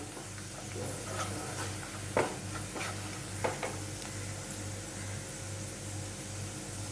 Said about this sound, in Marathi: सगळं व्यवस्थित एकजीव करून घेते.